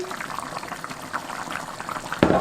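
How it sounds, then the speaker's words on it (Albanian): A pot of chicken-thigh and vegetable soup bubbles at a steady simmer, a soft continuous burble, with a sharp metallic clank near the end, likely a lid. "e lejmë me zi"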